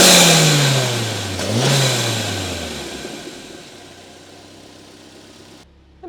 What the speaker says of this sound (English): So let's hear what it sounds like when you rev it up a little.